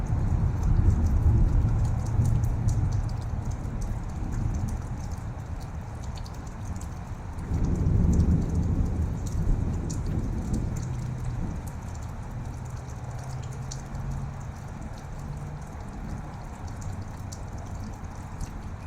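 Thunderstorm with steady rain falling and low rolling thunder, the rumble swelling near the start and again midway before easing, with no talk.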